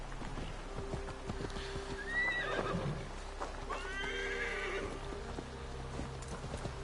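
In Assassin's Creed Valhalla, a horse whinnies loudly while its hooves clip-clop in a steady rhythm, the neigh rising over continuous game ambience.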